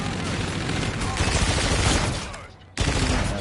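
Rapid gunfire from an ERAD weapon in a shooter video game rattles loudly in a dense burst, fades briefly, then resumes sharply.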